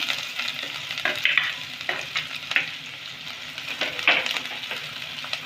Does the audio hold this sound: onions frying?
yes